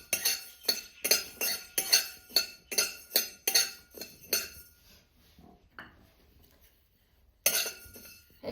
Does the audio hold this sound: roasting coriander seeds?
yes